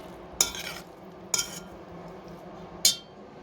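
Three separate clattering scrapes of a utensil against a bowl while stirring a salad dressed with salt and oil, spaced apart over quiet room tone.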